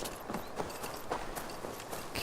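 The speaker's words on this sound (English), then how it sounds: "Oh, there's the horses." Horses in the video game Assassin's Creed Valhalla move about in an outdoor scene. Their soft, irregular hoof thuds fall over a steady, noisy ambient bed, with no talk.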